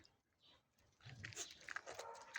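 Dogs bark at each other through an enclosure fence, a couple of short, faint yaps heard at a distance after a quiet moment.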